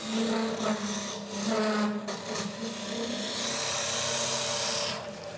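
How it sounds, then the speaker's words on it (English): A spindle gouge cuts into wood spinning on a lathe while boring out the centre of a vase. It makes a steady, continuous scraping hiss over a low motor hum, with slight surges in loudness. "I just like to use the spindle gouge because it's quick and easy."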